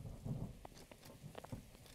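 Soft, steady rain in the video game Breath of the Wild patters faintly in the background, with a low distant rumble and a few scattered drip-like clicks.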